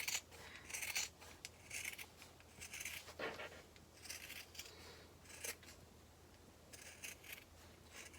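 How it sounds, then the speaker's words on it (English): Scissors trim a fabric seam allowance on a cosmetic tote flap, producing a series of quiet, crisp snips and short cutting rasps at an irregular pace, close up and without speech. "I just want to trim this seam allowance because it'll make the bottom edge of my flap look nicer"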